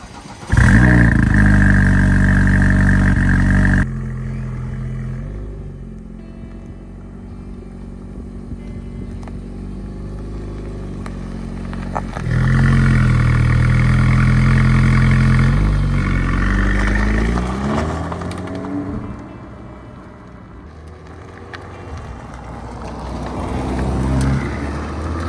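An Alpine A110S sports car starts off and drives, its engine surging loudly, easing to a lower cruise, then revving up again and fading before rising once more.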